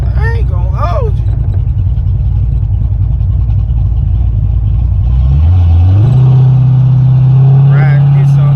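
Car with a Blueprint exhaust revving loudly and close, a deep rumbling drone that rises in pitch and holds at a higher steady tone, with occasional voices over it.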